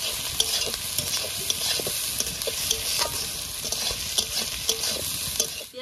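Onions frying in a pan with oil, a continuous bright sizzle with frequent stirring scrapes and light taps close by.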